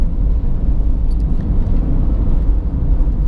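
A Peugeot 208 Allure with the 1.2 PureTech engine runs steadily, giving a loud, continuous low rumble with no voices over it.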